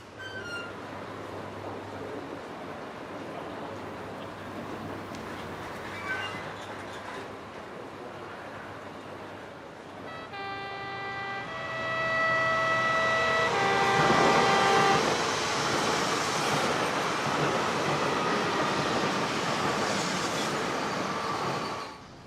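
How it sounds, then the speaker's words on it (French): A distant train rumbles past with a steady low roar, a tonal horn or wheel whine rising midway as the noise swells and lingers. "Quand je vois les trains passer"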